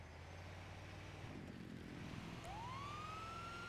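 Emergency vehicle siren in the video game GTA 5 rising in a single wailing sweep over steady low engine rumble, fairly faint and unaccompanied by talk.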